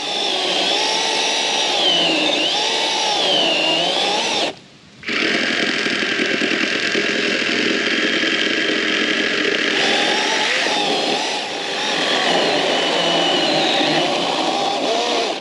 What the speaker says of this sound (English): The fact that we have a chainsaw is awesome.